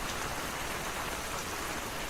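Steady rain falls in an unbroken, even hiss of drops with no gaps or other sounds, moderately quiet.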